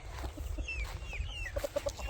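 Soft, short hen clucks come and go over a low rumbling background, with a few quick bursts of clucking toward the end.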